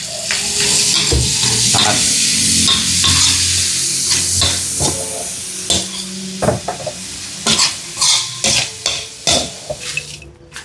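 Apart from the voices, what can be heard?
frying kuryat and kamaro in cooking oil, stirring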